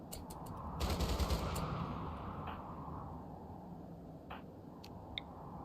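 Gunfire rattles through combat against mechanoids in the Rimworld video game, a dense burst of rapid shots swelling loudest early on, then thinning to scattered cracks over a steady rumbling bed.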